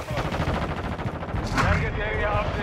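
Decoy grenades in the video game Modern Warfare 2 let off bursts of fake gunfire: rapid automatic rattles and pops, dense and continuous, loud over the game's background noise.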